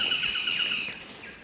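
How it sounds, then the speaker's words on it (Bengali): Birds chirp and call in a North Bengal forest as the path opens toward grassland, a steady layer of high tweets and repeated notes with insect-like buzzing underneath, moderately loud and without voices. "বিভিন্ন রকম পাখির আওয়াজ"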